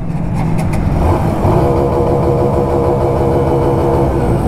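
A Benelli 600i motorcycle engine running loud and close, a steady rough throb with slight revving swells and no talk over it.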